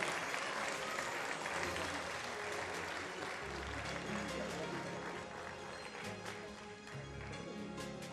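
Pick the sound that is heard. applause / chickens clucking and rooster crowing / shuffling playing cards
applause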